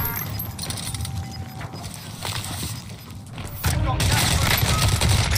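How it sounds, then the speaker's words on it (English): Gunfire in the video game Warzone crackles in dense bursts of automatic shots, growing louder and heavier toward the end, with game effects and no voices. "they're shooting at me"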